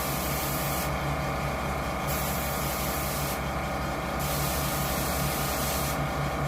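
An airbrush or spray gun hisses in repeated bursts while painting a coyote shoulder mount, several short sprays separated by brief pauses over a constant background hum.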